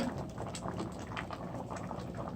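Peas stewing with oxtail in a pot, a soft, steady bubbling and pattering simmer, faint and continuous with no talking over it.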